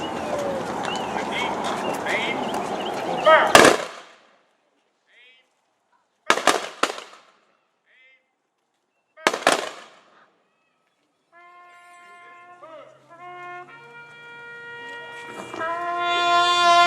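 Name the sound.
rifle volley salute fired at a memorial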